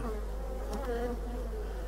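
A black honeybee buzzes close by in a steady, continuous drone with slight wavering in pitch, fairly quiet and without any voices.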